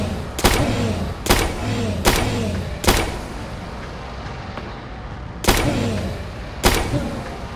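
Gunshots fired at an enemy in the horror video game Tormented Souls: about seven loud, heavy blasts come at fairly regular intervals, each with a short booming tail and a pause between.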